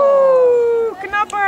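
A dog gives one long, loud, sustained howl that slowly falls in pitch before breaking into shorter whining yelps, heard close up on a dog agility course.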